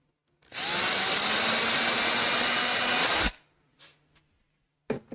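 A power drill fitted with a 3.2mm bit runs loud and close in one steady burst of nearly three seconds, then cuts off, followed by a few faint clicks and handling knocks.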